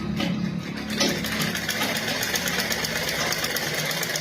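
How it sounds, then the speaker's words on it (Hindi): Sewing machine stitching fabric for a blouse, a close, steady rapid mechanical whir with a fast even needle rhythm that runs throughout, loud and alone. "बिल्कुल कपड़े को बराबर करते हुए, सेट करते हुए ही हमें सिलाई लगाना है।"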